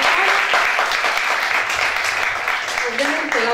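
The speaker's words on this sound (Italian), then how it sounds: "Antonio, un applauso" Studio audience applause on an Italian football talk show about Roma and Lazio: a dense, steady wash of clapping that fills the whole stretch at a loud, even level, with a voice partly audible underneath.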